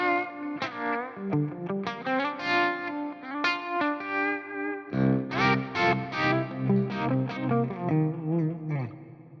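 Overdriven electric guitar through an Axe-Fx III optical tremolo effect plays riffs and chords with a smooth, gentle pulse, the volume swelling and dipping rhythmically.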